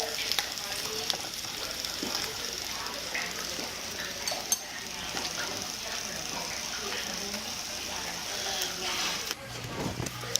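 Bacon frying in a pan sizzles and crackles continuously, with occasional clinks of utensils and a voice speaking intermittently over it.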